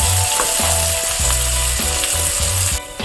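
Finely chopped onions sizzle with bay leaves, dried red chillies and oil in a pan for a desi-style country chicken, a steady close frying hiss broken by the irregular scrape and clatter of stirring.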